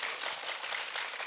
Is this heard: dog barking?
no